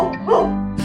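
A dog's single short bark, close and clear, sounding alone with no talk over it as part of a run of animal sounds.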